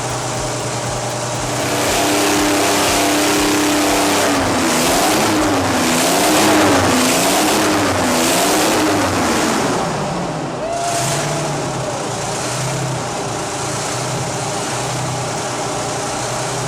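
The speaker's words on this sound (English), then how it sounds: "This is peak Detroit diesel, the V71 series powered marine vessels, heavy haul trucks, and industrial tractors" A Detroit Diesel V71 series engine, the kind used in marine vessels, heavy haul trucks and industrial tractors, runs loud and close, its drone revving up and down in a wavering rhythm with a steady heavy rumble beneath.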